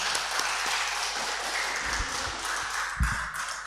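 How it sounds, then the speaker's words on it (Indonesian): Congregation at a monthly youth worship service in a Rantepao church claps steadily in dense, moderately distant applause, with a few louder thumps near the microphone. "Boleh tepuk tangan dulu."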